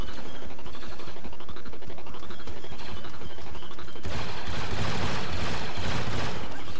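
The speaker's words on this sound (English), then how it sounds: "A DC-19 advanced rifle." Star Wars Battlefront 2 match with a DC-19 advanced rifle firing in rapid bursts, followed by a denser, louder barrage of gunfire and explosions. No one speaks.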